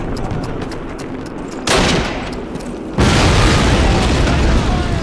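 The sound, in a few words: grenade explosion and gunfire in the video game Call of Duty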